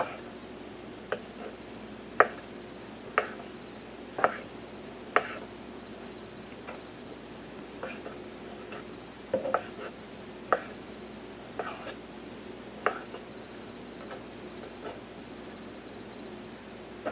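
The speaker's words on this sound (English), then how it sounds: "just kind of slice it up" A knife slices chicken strips on a cutting board for chicken fritters, giving a run of sharp, evenly spaced taps and cuts against the board. The strokes are close and clear over quiet room tone.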